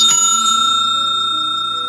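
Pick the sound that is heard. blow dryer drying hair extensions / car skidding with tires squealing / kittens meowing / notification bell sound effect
notification bell sound effect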